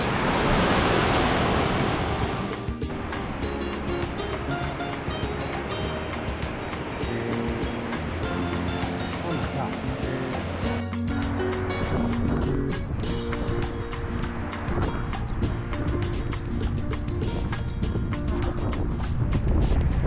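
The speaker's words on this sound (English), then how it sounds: "this is by far the biggest waterfall we've ever seen" A loud, steady roar of a large Hawaiian waterfall fills the scene continuously, broadband and unbroken, like heavy water crashing nearby.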